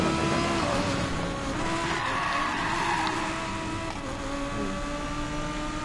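Fast car racing in Need for Speed Payback, a steady high engine roar with tire skids and squeals running throughout, loud and continuous with no talking.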